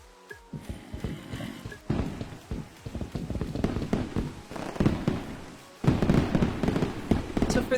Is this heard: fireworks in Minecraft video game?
yes